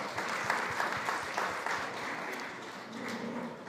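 An audience at a SXSW food summit panel claps in a brisk, moderately loud burst of applause that holds steady for a few seconds before easing slightly.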